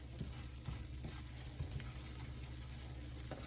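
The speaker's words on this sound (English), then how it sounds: "we're just gonna let this cook just very briefly, just to get that flour taste out of there" Flour and fat for a Southern cream gravy roux sizzle in a pan, a steady close frying hiss with a few soft scraping stirs and no voices.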